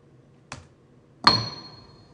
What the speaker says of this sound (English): that was the sound of striking the C8.